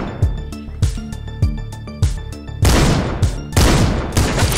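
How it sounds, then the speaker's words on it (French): Heavy gunfire from the video game Panic Factory: about seven loud, sharp shots at a steady rhythm, each with a booming tail. The later shots come in a denser, rolling burst. "Allez, je le flingue."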